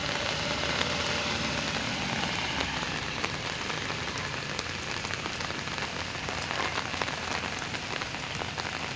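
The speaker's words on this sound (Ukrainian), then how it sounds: "І це ще дощ не закінчився." Steady heavy rain from a downpour pouring onto Nadrichna Street in Ivano-Frankivsk, a dense continuous hiss with pattering drops, with a faint engine idling underneath.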